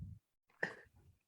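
A dog named Brody gives a single short, raspy cough in the background of a quiet indoor room, with faint breathy sounds just before and after.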